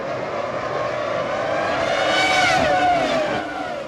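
Formula 1 cars roar away together at a 1998 race start, McLaren Mercedes and Ferrari among them: a loud, continuous engine scream with layered whining pitches that climb as the pack accelerates, swelling to a peak before easing slightly.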